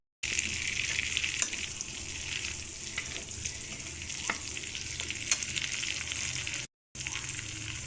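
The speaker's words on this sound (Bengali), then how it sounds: "আপনার রসুন কুচি, তারপরে একটু লঙ্কার কুচি দিয়ে একটু নাড়তে।" Chopped garlic and chilli frying in a pan for a spicy chilli chicken, a constant bright sizzle with occasional scraping stirs, close and continuous with a brief dropout near the end.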